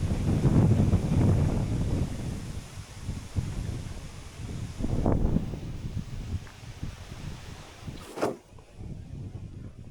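Gusting wind buffets a microphone outdoors during a charging stop on a solar-powered cargo e-bike trip, with strong rumbling bursts at the start and again midway and quieter rustling between them.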